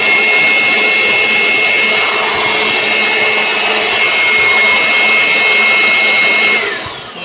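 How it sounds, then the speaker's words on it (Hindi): A compact INGCO 400W aspirator blower runs at full power with a loud, steady, high-pitched rushing whine, then winds down slightly at the very end. "जैसा ये छोटा कॉम्पैक्ट सा टूल है उसके बाद भी इसकी आवाज़ बहुत तेज़ है"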